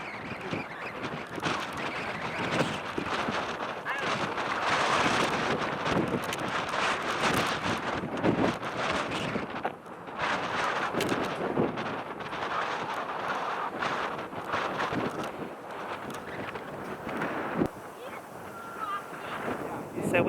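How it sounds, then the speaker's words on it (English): Strong wind buffets a hilltop at Blackwell Forest Preserve, a former landfill turned sledding hill in Chicago's western suburbs, roaring steadily and loudly against the microphone throughout with only brief dips. "Really windy today."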